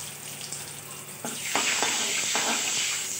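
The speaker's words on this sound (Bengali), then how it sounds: "সর্ষে, শুকনো লঙ্কা ফোড়ন দিয়ে দিলাম" Mustard seeds and dried chillies crackle in hot oil with turmeric, a sharp burst of sizzle swelling suddenly as they hit the pan, followed by a sustained frying hiss with a few stirring knocks.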